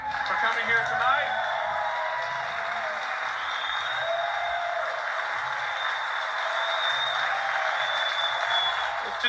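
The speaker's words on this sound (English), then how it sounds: "Give a big round of applause to our guests for coming here tonight." Applause from an audience at a Friday the 13th film reunion event, a dense, steady wash of clapping that holds for the whole stretch with voices mixed in beneath.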